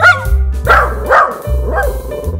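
A cartoonish dog in the Roblox Brookhaven roleplay game gives three or four clear barks and yips spaced about half a second apart, loud and close over a steady low game music bed, with no talking.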